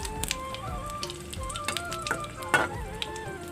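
Bay leaves, dried chili and whole cumin sizzle in hot mustard oil, giving a steady close frying hiss with small pops and crackles throughout.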